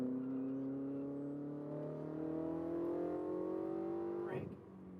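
A Ferrari 488 GTB accelerates on a race track, its engine note climbing steadily and smoothly for several seconds, loud and close from inside the car, then cutting off abruptly near the end.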